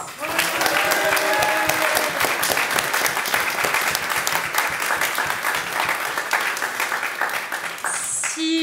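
A debate audience at an eloquence final applauds a speaker being welcomed, with dense, vigorous clapping held for several seconds that cuts off abruptly near the end.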